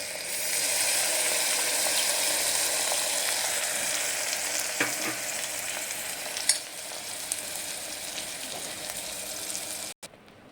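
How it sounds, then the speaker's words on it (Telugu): Tomato paste made from five tomatoes sizzles and fries in a pan for tomato rice, a steady hiss with scattered clinks and scrapes near the end, close up and without talk. "ఈ 5 టమాటాస్ని ఇలా పేస్ట్ పట్టుకుని ఇప్పుడు ఇందులో వేసుకుంటున్నాను"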